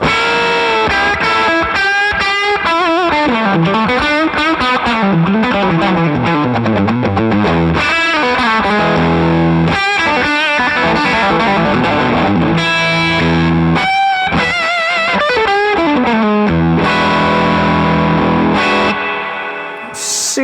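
Electric guitar played through a heavily overdriven Two Rock Bloomfield Drive tube amp with pushed power tubes, thick crunchy distortion with sustained chords and melodic lines, loud and continuous.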